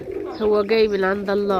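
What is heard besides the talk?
pigeons cooing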